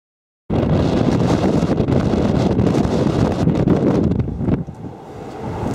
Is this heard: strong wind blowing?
yes